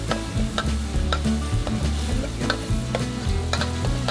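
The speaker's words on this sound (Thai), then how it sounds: "กระเทียมก็เริ่มสุกแล้วคั่วกันเลยครับ" Garlic stir-fries in a pan for pineapple fried rice. A dense sizzle runs throughout, with repeated scraping and clattering as a spatula tosses it, and there is no talking.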